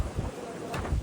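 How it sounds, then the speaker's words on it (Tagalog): Wind buffets the microphone in steady low rumbling gusts, with no voices. "Sobrang hangin."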